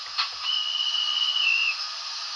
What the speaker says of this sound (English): good old fashioned guards whistle.